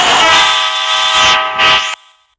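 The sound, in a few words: train horn in Indian Bikes Driving 3D video game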